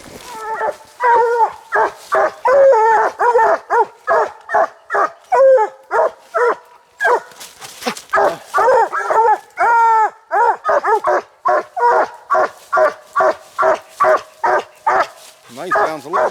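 Several coonhounds bay and bawl at a treed raccoon almost continuously, loud and close, their long drawn-out cries overlapping in an excited chorus.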